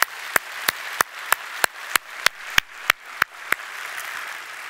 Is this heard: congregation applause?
yes